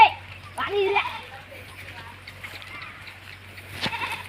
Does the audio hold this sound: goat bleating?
yes